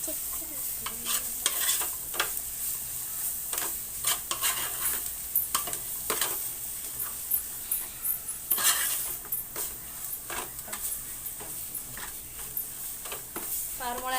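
Ginger-garlic masala paste frying in a pan while being stirred, soft sizzling with repeated scraping and clinking strokes of a spoon against the pan, moderately close, fairly steady throughout.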